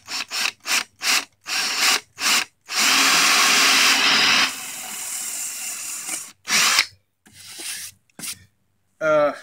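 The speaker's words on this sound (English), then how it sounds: "Does it hurt to drill into something that expensive?" A power drill bores into a pinball machine playfield in short, loud stop-start bursts, then one longer sustained run before more brief pulses near the end.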